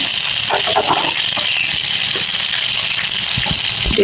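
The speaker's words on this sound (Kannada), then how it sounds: "ಸ್ವಲ್ಪ ನೀರು ಹಾಕೊಳ್ತೀನಿ" Water gushes into a kitchen mixer jar holding ground curry ingredients for ivy gourd saaru, a loud, steady splashing rush with light rattles and no talking.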